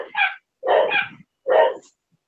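Three puppies downstairs bark in three short, sharp bursts with gaps between them, loud and fairly close, with no talking.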